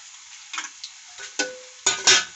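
Chana dal, urad dal and mustard seeds fry in hot oil, giving sparse crackles and a few sharper pops that grow denser toward the end, close and fairly quiet with no talk.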